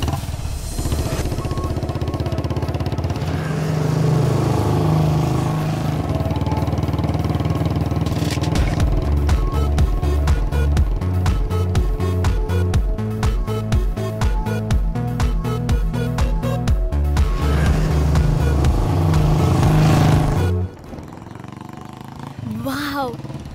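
Motorcycle ridden along, its engine droning and revving loudly with changing pitch, then cutting out abruptly near the end as the bike stops, with dramatic background music throughout.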